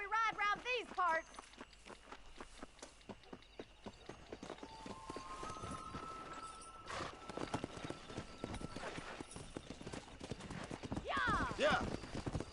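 A horse ridden in Red Dead Redemption clip-clops in a steady walking rhythm, hoofbeats fairly close, while people talk over it and a whinny rises near the end.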